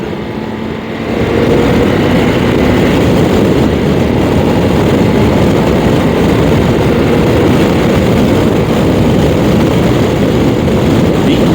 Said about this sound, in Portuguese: ninguém diria que esta moto tem o peso que tem da forma como ela acelera